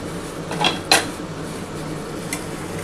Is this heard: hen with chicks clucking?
no